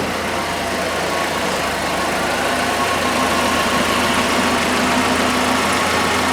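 A 1981 Alfa Romeo Spider Veloce, barely warmed up, idles smoothly around 900 rpm, a steady close-up engine hum that holds even and unbroken throughout.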